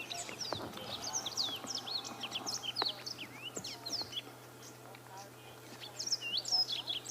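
Bright, quick chirping song of a yellow-fronted canary with rapid repeated trills, moderately distant outdoors at sunrise over a low steady hum.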